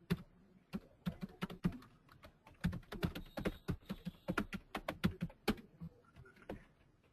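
A computer keyboard clacks under quick, uneven keystrokes as an email ID is typed, close and fairly quiet, with short bursts and gaps between keys.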